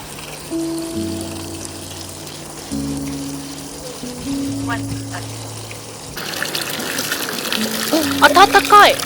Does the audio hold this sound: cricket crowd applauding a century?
no